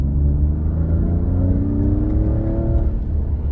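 A quad bike engine revs loudly and steadily, its pitch rising smoothly as the exhaust roars after a gear drop, heard from close by with no talking.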